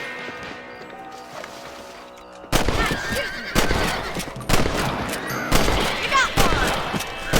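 Rifle shots while shooting rabbits in the video game Red Dead Redemption: a string of loud, sharp cracks about once a second after a quieter start, with a horse whinnying and brief talk mixed in.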